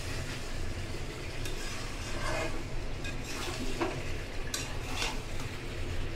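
A fish curry with flat beans, potatoes and melted tomatoes is stirred in a pot, giving a steady scraping and soft clattering of a utensil against the pot over a constant low sizzle, close and continuous.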